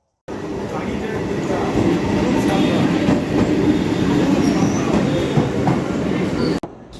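Bandel–Howrah local train running, heard as a loud, continuous rumble of wheels on rails with faint rhythmic clatter, before cutting out abruptly near the end.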